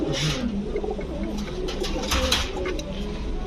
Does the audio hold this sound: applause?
no